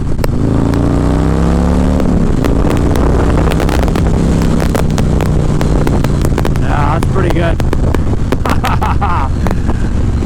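A 2019 Harley-Davidson Fat Boy with a Rinehart 2-into-1 exhaust runs loud and steady on the road under heavy wind buffeting, the engine droning throughout while someone speaks briefly.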